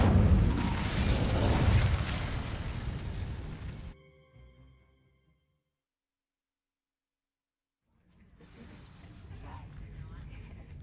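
A fire spell cast on dry vines in Hogwarts Legacy bursts into a loud, dense whoosh of flame and crackle lasting about four seconds. It cuts to near silence, then broader ambient rumble returns.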